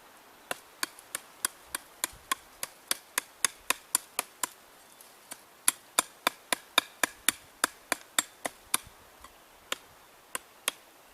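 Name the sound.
Cold Steel Bowie Bushman knife chopping Caragana wood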